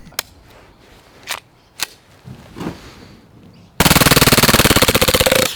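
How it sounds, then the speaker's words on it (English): APS Shark CO2 gel blaster pistol fired on full auto: a few scattered clicks and handling knocks, then a loud, rapid continuous burst of shots at about 19 rounds per second running close up for almost two seconds. "Let's go see the rate of fire."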